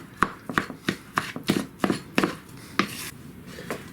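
A utensil chops and scrapes through rice wrap filling in a bowl, a quick series of close, sharp taps and rubs in an irregular rhythm, with no talking.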